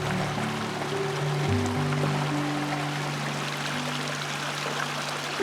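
Slide Creek flows through the High Sierra wilderness near a campsite, a continuous rushing wash of water that stays close and even throughout with no voices.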